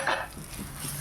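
A short scrape and stir of garam masala being dry-roasted in a pan on low heat, one quick metallic sweep followed by soft continuous scraping, close and alone.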